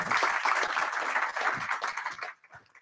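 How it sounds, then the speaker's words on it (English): A talk audience gives a warm round of applause, many hands clapping densely for about two seconds before it tapers off into a few scattered claps. "Give him a nice round of applause"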